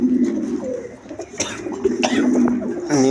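Domestic pigeons, paired adult fancy birds, coo softly in a series of low, throaty calls close by, with scattered rustling and small flutters between the coos.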